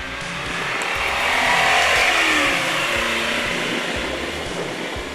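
A 1985 Lamborghini Jalpa's engine hums steadily while the car drives through a park, with a broad, continuous road and engine roar that swells slightly midway, no one speaking.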